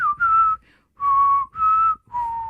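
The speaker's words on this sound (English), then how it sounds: "I did remember to whistle this time." A person whistles four short sustained notes in a steady, clear rhythm with brief pauses, close and loud with no other sound.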